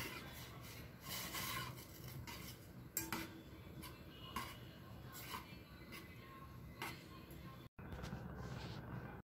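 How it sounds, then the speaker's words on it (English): A spoon scraping and clinking against a pot while stirring rose petals into a homemade face mist, faint repeated rubbing strokes with soft metallic taps, a voice talking now and then. "So I'm going to stir it."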